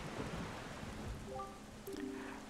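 Steady rain pours over a cursed island in Zelda Wind Waker, a dense continuous hiss with a low rumbling undertone, joined by short tonal game chimes partway through.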